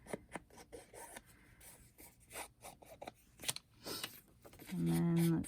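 Paper edges being rubbed to distress them for a junk journal, soft irregular scratchy strokes close up, quiet, with a person talking between them.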